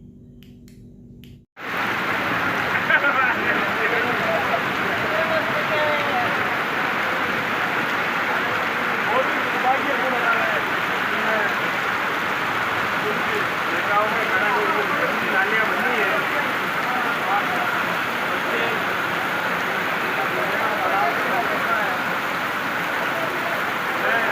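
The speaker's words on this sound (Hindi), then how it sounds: "चित्तौड़गढ़ के समीप स्थित बस्सी में रविवार को काफी देर तक तेज बारिश हुई।" Heavy rain pours steadily on Sunday in Bassi, near Chittorgarh. It sets in abruptly after a short quiet lead-in, then holds as a dense, even roar of drops pattering on surfaces for the rest of the time.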